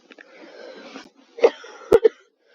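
A lecturer with a lingering cough coughs several times during an online class, a short raspy run followed by two sharp, close, loud coughs, with wheezy breathing in between and no speech.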